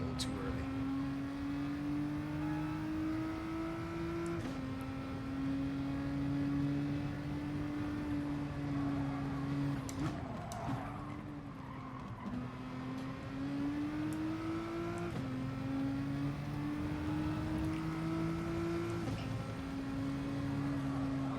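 A Volkswagen Beetle GR3 races in Gran Turismo Sport, its engine droning steadily and rising through repeated gear shifts, with brief braking dips, under quiet commentary.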